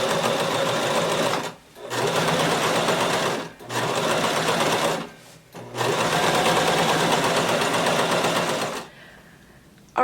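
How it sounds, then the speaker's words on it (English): A sewing machine stitches steadily around the edge of a skirt, running loud and close in three long continuous bursts separated by short pauses, then trailing off into quiet. "sew all the way around until you get to your stopping pin"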